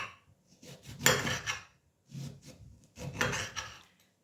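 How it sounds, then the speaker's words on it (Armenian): A knife slices through a lemon on a cutting board, two separate passes of close rasping, scraping cuts with quiet gaps, and no voices over them. "Հիմա մեր լիմոնը կտրատում ենք"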